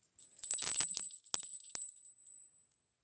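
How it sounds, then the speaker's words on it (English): A small Buddhist bell rings with a bright, high, sustained tone, struck with a few quick taps near the start and a couple later, the ring lingering clearly and fading out in a quiet room. "this is a Buddhist bell I got from Devin for Valentine's Day."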